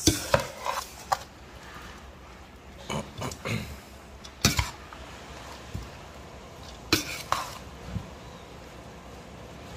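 Pelau being stirred in a pot over an open fire, with intermittent scraping and knocking of a spoon against the pot, scattered bursts amid low background noise.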